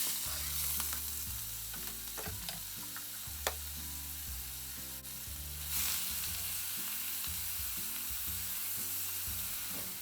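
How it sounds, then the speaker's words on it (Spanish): Chopped onion softens gently in a pan over low heat, a steady, low, even sizzle running beneath continuous background music. "bajamos el fuego para empezar a pochar la cebolla"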